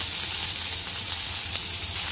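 Onions frying in a pan with salt for a kundri masala, giving a steady, close sizzle that runs evenly throughout without any talk.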